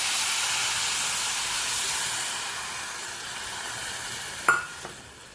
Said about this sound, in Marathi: त्याच वाटीने 3 वाटी आपण पाणी घालायचं आहे याच्यात